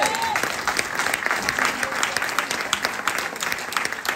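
A church congregation applauds in a steady, dense wash of clapping, close and loud throughout, with a few voices calling out over it.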